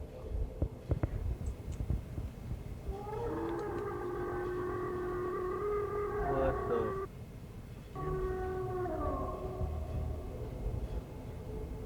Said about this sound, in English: A sinister howling noise can be heard